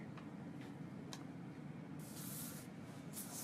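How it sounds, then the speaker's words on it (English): Two short hissing bursts of an aerosol hairspray sprayed onto hair, one longer then a quick second spray, soft and close against a quiet background. "Spray it."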